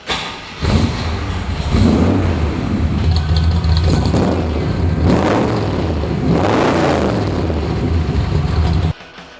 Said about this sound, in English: I think we need to hear what the rumble is about, especially with a set of side pipes.